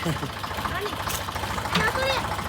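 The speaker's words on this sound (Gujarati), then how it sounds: "ટ્રેક્ટર હે ને ગતનો ઓવરલોડિંગ લોડ હે ને એટલે રિવેસ સરખું નથી લાગતું લોડ બહુ હે" A heavily overloaded tractor hauling sand reverses at night, its engine giving a steady, labouring low rumble close by, with voices talking over it.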